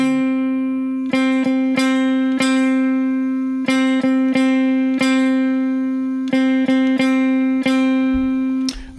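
An electric guitar repeats a short rhythmic phrase, each note struck sharply over a steady sustained pitch, loud and close, no talking.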